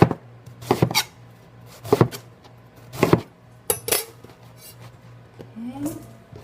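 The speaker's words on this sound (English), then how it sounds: "And this I will chop." A knife chops food on a cutting board for a chicken dinner, with several separate clusters of quick, sharp strikes spaced about a second apart against a quiet room background.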